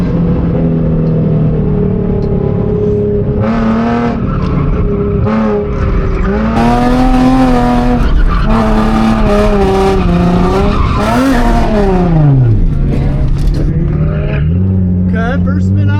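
A drift car in a racing sim spins out in the first corner. The loud revving engine rises and falls in pitch over screeching tyres, and a voice talks underneath.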